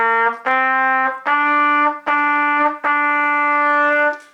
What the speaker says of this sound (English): So we're going to be on our trumpet and we're going to move our fingers on the valves.